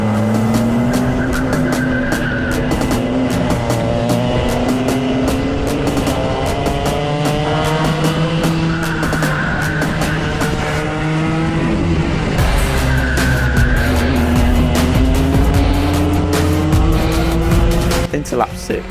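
Club 100 racing karts lapping a track, a loud continuous high engine whine rising and falling through gears and corners, several karts close together, with talk over the top.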